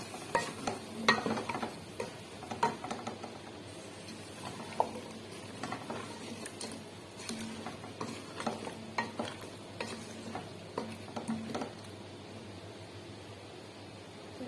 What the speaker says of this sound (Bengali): আলুগুলো সুন্দর করে আগে কষাই নেবো।